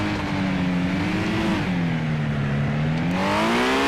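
A race car engine in a racing video game revs hard and continuously, a loud, close, droning whine that rises and falls in pitch as the throttle shifts.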